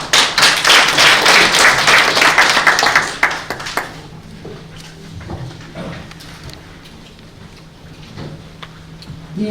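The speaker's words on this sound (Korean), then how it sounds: "큰 박수 부탁드립니다" An audience at a political reform debate forum in Daegu breaks into applause for a speaker, a dense burst of many hands clapping for about four seconds before fading into quiet room tone.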